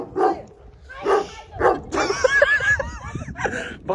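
Several close dog barks and yips in quick succession, with whiny, pitch-bending vocal sounds between them.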